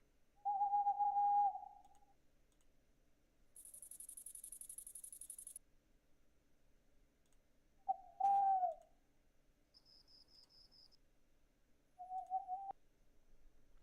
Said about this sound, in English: Generate a realistic owl hooting sound effect